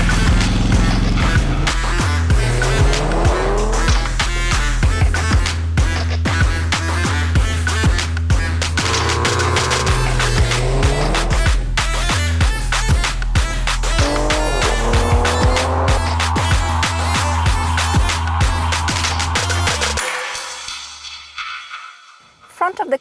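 A Genesis G80 Electrified electric car accelerates and drives steadily, a smooth rising and falling motor tone with some tire noise, running loud and close before cutting off near the end.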